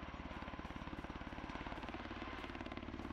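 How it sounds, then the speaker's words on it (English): Rapid rhythmic thudding of helicopter rotor blades over a rumbling engine in a video game, steady and fairly loud, no voices. "there's a helicopter in here somewhere"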